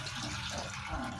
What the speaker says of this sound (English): I'm gonna add some clean water to the cooking pot.